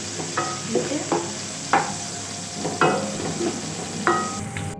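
Onions soften in a frying pan for chicken tinola with moringa leaves, sizzling steadily while a utensil stirs and scrapes at a slow, irregular rhythm, close and clear with no talk.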